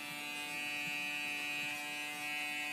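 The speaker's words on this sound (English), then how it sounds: "This is an electric shaver." An electric shaver buzzes steadily and close, trimming a man's hair on the cheek to skin length, a continuous droning hum with no talking.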